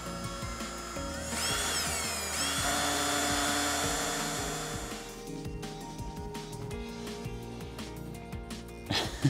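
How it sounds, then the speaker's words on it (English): A power drill bores into the metal of a computer case for a 486 PC build, whining loudly and steadily for a few seconds before winding down, with lighter clattering afterward. "I would prefer not to drill a hole in my plastic table"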